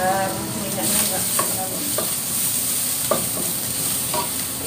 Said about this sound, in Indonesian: Saya tumis jahe dulu.